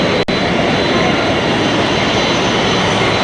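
Jet airliner engines at Halim Perdana Kusuma airport roar loudly and steadily up close, a dense unbroken rush broken only by a brief click near the start.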